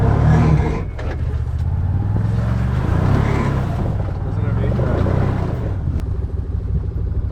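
A Can-Am Commander side-by-side crawls over slickrock at Moab in four-wheel drive, its engine giving a steady, loud low rumble that rises briefly and settles.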